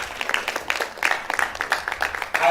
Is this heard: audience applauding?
yes